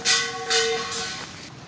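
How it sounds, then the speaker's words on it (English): Train at a railway station in Vidisha, with the station under construction: close, loud hissing bursts recur over a steady tonal whine, then ease off. No talking. "This is the station of railway station in Vidisha."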